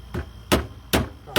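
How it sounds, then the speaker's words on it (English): Three sharp hammer blows strike at a steady pace, close and loud, each a short solid knock, driving a plug into resin. "Got to hammer it better and deeper"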